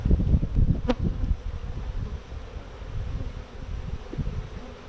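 Honeybees hum steadily around an open hive, a dense low insect drone filling the air close to the microphone, with faint rustling and a brief higher whine near the start.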